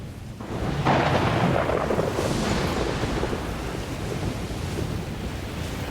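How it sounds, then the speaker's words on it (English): Violent thunderstorm with howling high winds in the Death Stranding game, a loud continuous roar of wind and rain that surges after the first second and stays heavy and sustained throughout, with no voices. "There's just a very violent and angry thunderstorm and like very high fucking winds."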